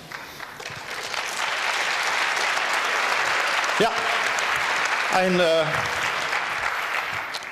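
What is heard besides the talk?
applause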